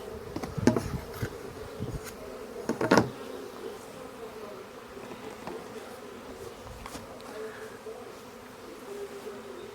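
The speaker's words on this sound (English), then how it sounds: "you can see the bees are still up there." A honey bee swarm hums steadily around a hive as the colony is caught and readied to move in April, with a continuous insect drone and a few louder close buzzes and knocks early on.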